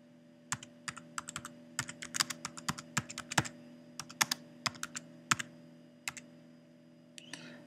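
Typing on a computer keyboard while entering event details into a web page, with quick irregular clusters of close, crisp key clicks and brief pauses, over a steady low electrical hum.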